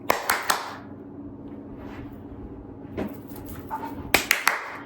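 Hands clap a few times in a kitchen, sharp close claps in short bursts at the start and near the end, with quiet background noise between them.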